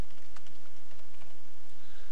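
Someone types a folder name on a computer keyboard, a short burst of close, quick key clicks in an uneven rhythm, with no talking.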